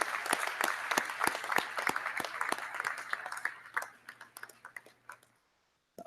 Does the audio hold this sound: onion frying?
no